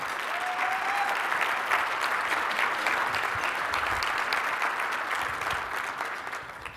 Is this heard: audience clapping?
yes